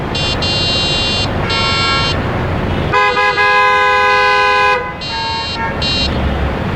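Car horns honk repeatedly in busy Mumbai road traffic, a loud high tonal toot in several short bursts with one longer sustained blast in the middle, over constant engine and street noise.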